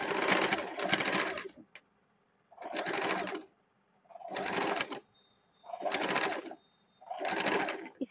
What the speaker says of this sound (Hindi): अभी दूसरे वाले साइड का भी गले का सिलाई कर लेंगे